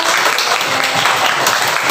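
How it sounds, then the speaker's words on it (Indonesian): Crowd applause for children in a classroom, dense and continuous clapping close by for the whole stretch. "Tepuk tangan dulu buat anak-anak hebat."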